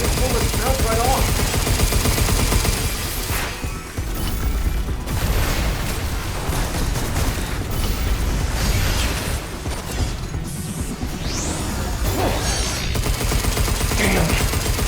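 Rapid automatic gunfire in Pragmata, aimed at a bot that rounds bounce off, with loud sustained bursts, mechanical clatter and brief pauses between volleys.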